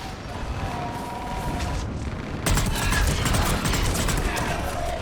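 Fire support in Mass Effect 3 lays down a dense, continuous barrage of gunfire and booming impacts that swells louder halfway through, nearby and sustained.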